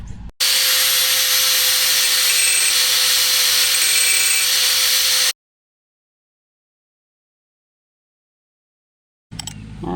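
An old one-inch drill bit is sharpened with a power tool, a loud steady whining grind for about five seconds, then silence before it briefly starts again.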